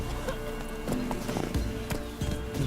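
Roach, Geralt's horse in The Witcher 3: Wild Hunt, trots with steady hoof clip-clops and an occasional whinny, set against game music and ambient noise, with no one talking.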